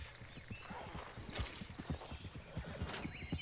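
A horse gallops in the Red Dead Online video game, quick rhythmic clip-clop hoofbeats close by and fairly clear, with a short whinny-like cry near the end.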